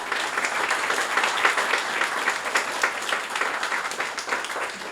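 An audience at a student showcase claps and applauds loudly for a few seconds, a dense, even round of hands with no voices over it.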